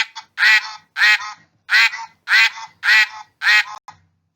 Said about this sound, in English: we can see some ducks swimming in that pond. They're enjoying themselves as they are saying something to each other.